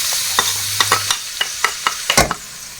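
Onion frying in hot oil in a pan while being stirred, with a soft sizzle under a series of sharp scraping and clinking utensil strokes in an irregular rhythm.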